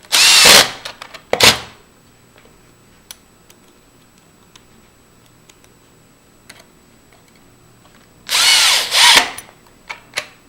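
A power drill drives two screws to mount a passage lever, with two loud whirring bursts near the start and another long double burst near the end, separated by quiet clicks and handling noise.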